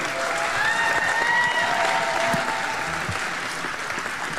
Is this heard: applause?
yes